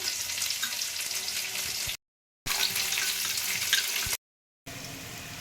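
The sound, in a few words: water poured into sauce for veg manchurian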